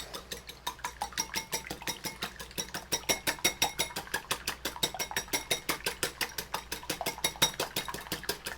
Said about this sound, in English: Yeah, whisk that up.